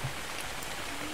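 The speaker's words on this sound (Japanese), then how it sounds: "雨が降ってきた。" Rain falling in the video game ARK, a steady, even hiss of drops spread across the whole brief moment, with no voices over it.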